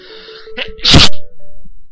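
A single loud, close sneeze bursts out abruptly, a sharp explosive puff after a brief intake, with faint background tone around it.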